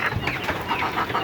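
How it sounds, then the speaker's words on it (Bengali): Native chickens cluck in a repeated, close burst as they come to feed on grass in a backyard flock with turkeys nearby. "দেশি মুরগিটা আসতেছে খাওয়ার জন্য"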